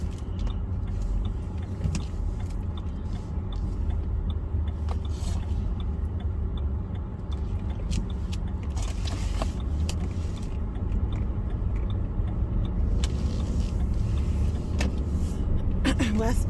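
A car drives over really bumpy streets, its low road rumble steady throughout, with occasional rattles and knocks from the cabin.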